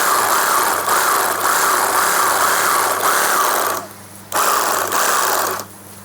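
A cordless M-9350 sack sewing machine with auto feed stitching through a sack, a loud, steady rapid mechanical whir that cuts out briefly twice, close up and with no talking.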